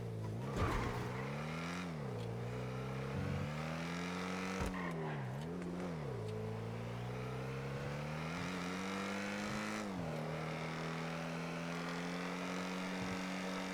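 Car engine in the GTA 5 video game, steady drone with pitch rising and falling as the vehicle accelerates and shifts through gears, continuous and fairly close throughout with no talk.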